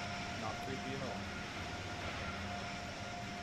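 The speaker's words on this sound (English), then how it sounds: "Sorry, the train's going so slow." Acela Express train rolling slowly in Train Sim World 5, a steady low rumble and hum with a faint tonal whine, heard from inside with quiet talk over it.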